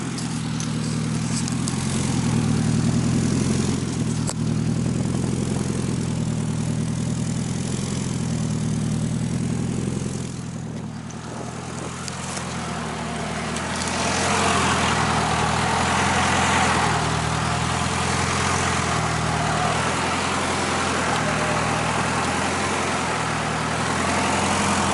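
An all-wheel-drive Honda car with a full custom exhaust idles steadily with a deep, rumbling drone, loud and close, dipping briefly before settling back.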